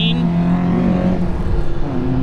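Nissan S13 drift car at a drift event, a loud engine drone with rising and falling revs close by throughout, mixed with crowd and track noise.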